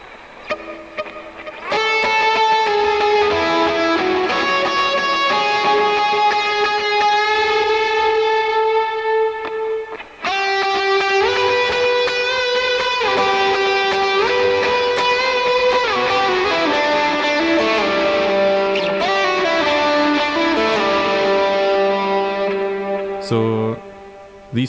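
Electric guitar through Tube Screamer overdrive with delay and reverb on a Line 6 Helix, playing sustained notes and chords with lush trailing echoes, loud and continuous for about twenty seconds, with a brief pause midway.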